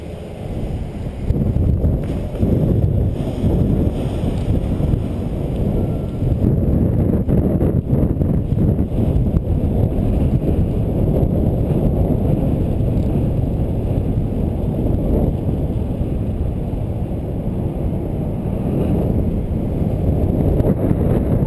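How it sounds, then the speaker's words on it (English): Heavy, continuous wind buffeting a microphone during a bike ride, a loud low rumble with constant gusty roar from start to finish and no talking. "A little windy."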